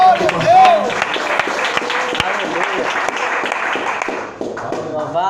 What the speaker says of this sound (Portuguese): Pode exaltar com as palmas.